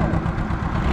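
An Ursus C-330 tractor engine chugging steadily at close range while ploughing wet fallow ground, a loud low rumble with no talk over it.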